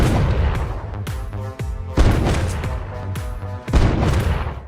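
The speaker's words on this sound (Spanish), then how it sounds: "El sonido de los disparos alarmó inmediatamente al sheriff" Pistol shots ring out in a film scene, a series of sharp loud bangs at irregular intervals, each trailing off in a brief echoing decay.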